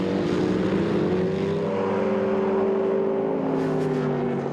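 Formula 5000 race cars roar down a straight at Phillip Island circuit, engines loud and sustained, pitch sliding as they rocket past.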